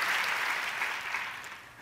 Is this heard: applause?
yes